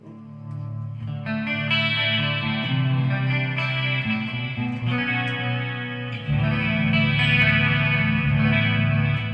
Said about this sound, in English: I'm using a bit of chorus, bit of reverb, bit of delay